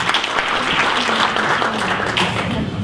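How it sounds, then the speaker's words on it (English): Warm applause from a community audience in Mullumbimby, welcoming a speaker to the stage, a dense steady roar of clapping that holds evenly throughout with no voices standing out. "So let's have a really warm Mullumbimby round of applause for Tim Hollow."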